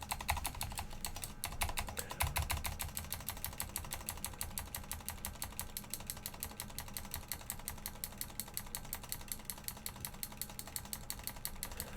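Steady computer keyboard typing with mouse clicks at a desk during a session of the online game Shroud of the Avatar, a fast, dense clatter of keys running continuously and close, with no talk.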